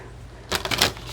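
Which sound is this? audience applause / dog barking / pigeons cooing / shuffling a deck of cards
shuffling a deck of cards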